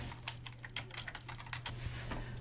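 Typing on a computer keyboard while entering a title, with rapid irregular key clicks close by over a steady low electrical hum, no voices.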